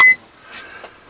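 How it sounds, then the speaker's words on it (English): A wind speed alarm set at 15 mph on a Windmax HY 500 wind turbine setup gives a short, loud electronic beep at the start, then cuts off, leaving faint wind and background noise. "that's my 15 mph alarm going off."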